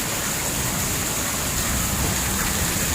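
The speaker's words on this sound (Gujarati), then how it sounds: "મસ્ત વરસાદ આવી ગયો." Heavy rain pours down in a dense, constant roar, close and loud, with no voices.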